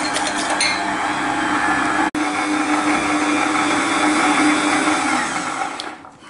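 An electric mixer whisks eggs for chocolate sablé dough, a loud, steady whirring drone with a brief cut near the start, then winding down at the end.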